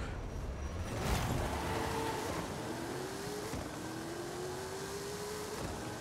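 A 2018 Chevrolet Hot Wheels Copo Camaro accelerating in a Forza Horizon 5 drag race, its engine pitch climbing through several gear shifts, steady and moderately loud with no talk.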